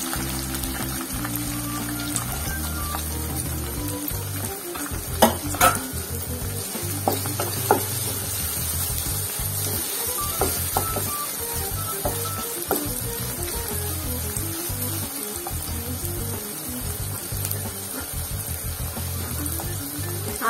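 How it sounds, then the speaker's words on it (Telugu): Chopped onions fry in hot oil for a spicy prawn masala curry, a loud steady sizzle broken by clinks and scrapes of a spoon stirring the pan, close and alone. "ఆనియన్స్ వేసుకోవాలి."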